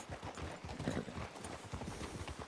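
Horse hooves clip-clopping at a steady walking rhythm in Red Dead Redemption 2 roleplay, a quiet, even patter of hoofbeats continuing throughout.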